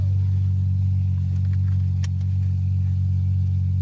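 A loud, deep car engine drones steadily up close, a heavy continuous rumble with no voices.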